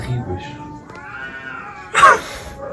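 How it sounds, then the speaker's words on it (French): A cat in Nepal gives a rising, drawn-out meow that tails off, followed by a short sharp louder cry near the end, heard close with faint background noise. "C'est un chat, je crois."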